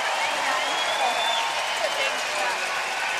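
A home crowd at a women's curling semi-final between Canada and the United States cheers in a steady, loud roar of applause and voices throughout.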